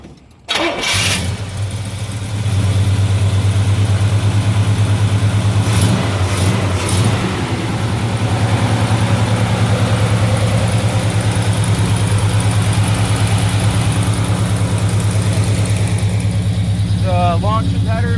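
A 1969 Chevelle SS tribute with a 396 V8, Turbo 400 transmission and Flowmaster exhaust cranks over and fires, then settles into a loud, steady, rumbling idle close by, with voices talking over it.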